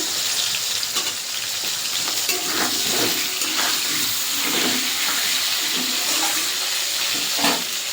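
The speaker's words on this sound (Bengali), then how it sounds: "কেটে ধুয়ে রাখা আলুটা ছেড়ে দেবো আলুতে নুন হলুদ দিয়ে ভেজে নেবো" Cut potatoes fry in hot oil with cumin seeds, salt and turmeric, giving a steady close sizzle with occasional soft stirring scrapes and no talking.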